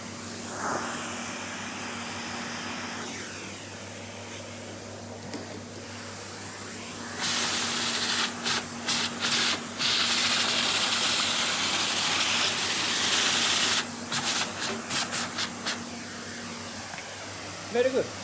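A black vacuum hose at a CNC milling station sucks up the small leftover debris with a loud, steady airy roar, broken by several sudden surges and chattering pulses as chips rattle through, over a constant machine hum.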